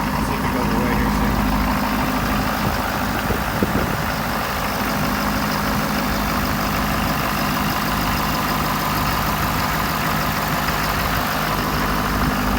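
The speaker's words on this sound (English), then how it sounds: "It is pretty cold, so I'm wondering if that's the turbo, like the sound from the turbo, or if it's the exhaust." A 2017 Ford F-350 Platinum pickup idles in cold weather, giving a steady, continuous engine rumble with a whooshing turbo or exhaust tone, while a person talks over it throughout.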